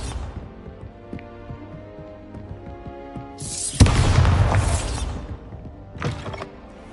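A Bombarda spell explodes in Hogwarts Legacy: one loud, close blast that rumbles and fades over about a second and a half, followed by a smaller burst, over quiet game ambience.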